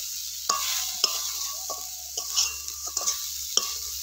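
A spatula stirs a sugar filling for vapa puli pitha in a pan, about seven crisp scraping strokes at an even pace over a low, quiet background.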